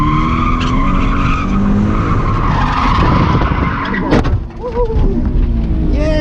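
A budget Scion FR-S slides through a drift, its tires skidding and squealing loudly and continuously over a steady engine roar, with a brief burst of heavier noise near the end.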